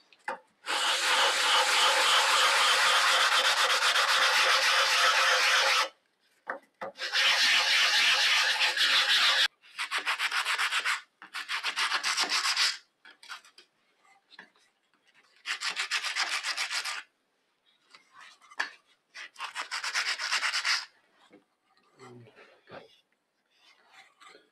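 Tigerwood (Gonçalo alves) and beech for a business card holder being sanded by hand with 100 grit sandpaper, in loud, steady bursts of rubbing strokes with short pauses between them, ending in fainter scattered scrapes.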